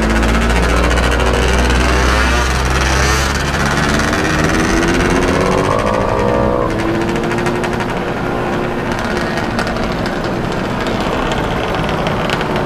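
A Mobylette moped engine putters slowly on a country ride, a loud, close, rattling two-stroke chug that wavers and drops in pace as if close to stalling.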